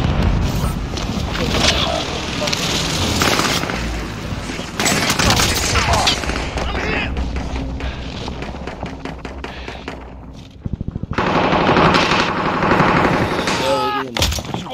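Heavy gunfire in a multiplayer shooter video game: loud bursts of rapid automatic fire and single shots come close and continuous, with brief pauses, and players' voices mix in at times.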